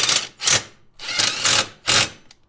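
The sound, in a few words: drilling holes for a skid plate mounting bracket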